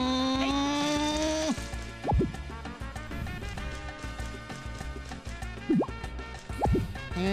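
Watering crops in the farming game Harvest Moon: Magical Melody, a few short liquid drips and plops standing out over a constant bed of bright game music.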